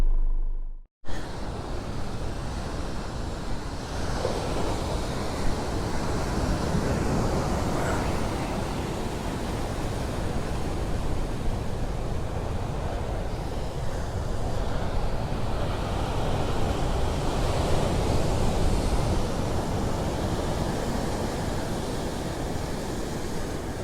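Steady surf and wind roar along the coastline at Beachport, South Australia, a broad continuous wash with heavy wind buffeting that never lets up.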